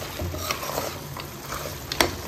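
Goat head curry, meat cooked in a generous amount of oil, sizzling and frying in a pan with a steady crackle, occasional stirring scrapes and a sharp clink near the end.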